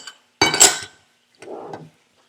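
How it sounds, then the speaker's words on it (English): Broth, paprika and flour mixed together for a creamy chicken gravy: a quick burst of clinking and scraping of utensil against dish, a pause, then a softer second round of stirring. "And you're going to mix all that really good together."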